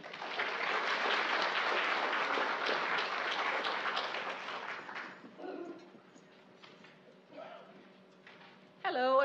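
An audience welcomes a speaker at a health talk with warm applause that is steady for several seconds, then thins to scattered claps as voices and a brief sound emerge near the end.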